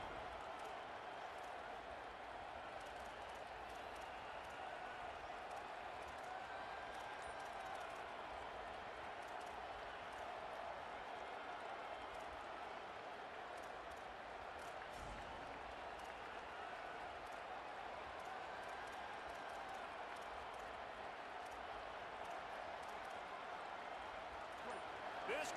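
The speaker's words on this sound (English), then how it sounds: "This crowd bringing the energy and noise early" A large stadium crowd in a Madden football video game roars in a continuous, distant wash of cheering and applause, with commentary voices faintly under the noise.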